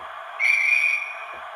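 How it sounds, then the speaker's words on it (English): A locomotive gas whistle in a train simulator game blows once for about half a second, clear and sustained, then stops with no talking around it. "And the gas whistle."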